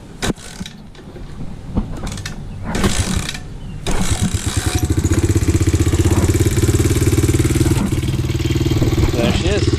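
A Red Kat 90 pit bike is started: a few clanking mechanical attempts and kicks, then the small engine catches about halfway through and settles into a loud, rapid, buzzing run close by.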